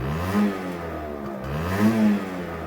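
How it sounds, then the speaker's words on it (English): A moped engine, its carburetor just repaired, revs hard at full throttle, a close, buzzing roar that rises and surges twice with some mechanical clatter. "As you can see, I can now apply full throttle"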